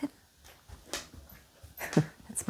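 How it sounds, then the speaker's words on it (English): A 9-year-old female Rottweiler whimpers and pants softly in a quiet room, with a few faint breaths and a brief whine rising near the end. "That's my Rottweiler."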